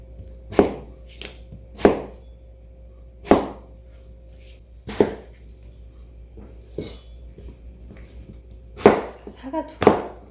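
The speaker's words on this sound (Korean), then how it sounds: "다 잘게 썰어서" Apples and onions being chopped finely on a cutting board, a knife striking the board in sharp, close single chops spaced a second or two apart, with quieter handling sounds between.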